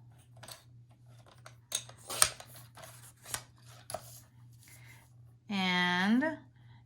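Paper snipped with scissors in a quiet room, a scattering of short crisp cuts and rustles, followed by a brief louder squeaky sound near the end; low steady hum underneath.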